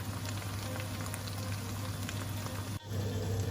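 Thai green chicken curry with coconut milk bubbling steadily in a pot, a soft, even simmering hiss throughout with one brief dip near the end.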